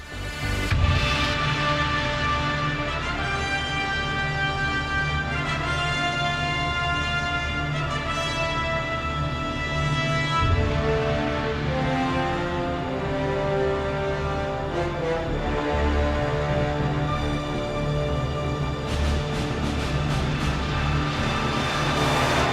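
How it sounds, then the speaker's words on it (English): Orchestral Battlefield 6 theme music plays continuously, with sustained brass and strings building over a steady low rhythm, full and dense throughout. "There is a rendition of the Battlefield theme here, and it sounds like this."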